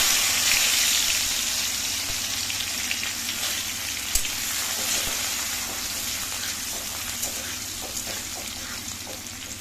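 Chopped garlic frying in hot oil with nigella seeds and dried chillies for an aubergine bharta, a steady close, loud sizzle with a constant crackle and a few sharp pops throughout, no voices.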